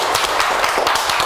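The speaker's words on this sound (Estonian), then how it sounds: "toome nad ka aplausiga lavale" A short burst of dense applause fills a hall at a wellbeing forum in Tartu, with an audience clapping steadily to welcome people onto the stage.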